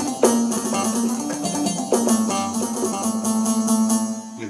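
A Korg Pa1000 arranger keyboard plays a sustained brass patch with held chords and a steady low note, bright and close, with no voices.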